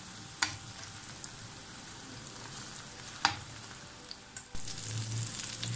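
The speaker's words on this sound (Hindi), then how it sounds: "5 मिनट तक चारों तरफ से हम अच्छी तरह इनको फ्राई करेंगे" Chicken gola kebabs frying in a pan, a soft steady oil sizzle with a few sharp clicks of stirring or turning and a louder burst near the end, fairly quiet and without voices.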